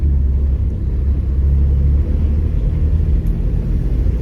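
A car engine revs and drones steadily at close range through a driving lesson, a loud continuous low rumble that swells slightly but never drops away.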